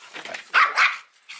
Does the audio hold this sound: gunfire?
no